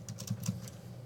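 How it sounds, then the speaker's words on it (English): A few quick, light keystrokes on a computer keyboard in a lecture setting, soft and close, in a short irregular burst. "I'm not just typing this for funsies."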